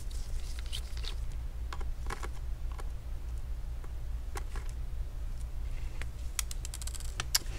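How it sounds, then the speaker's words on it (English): A Phillips screwdriver works the bottom screws out of a Lenovo Legion Y530 laptop, producing faint scattered ticks and small clicks over a low steady hum. "get a Phillips screwdriver and you should be able to remove all the screws at the bottom here"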